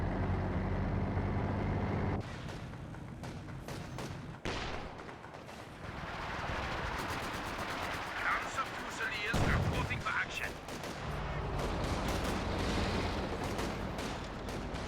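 Gunfire and explosions from a Company of Heroes 2 battle with a KV-2 tank, MG42 and Panzer Fusiliers rattle on continuously under a caster's commentary, with artillery-like thumps and vehicle rumble in the mix.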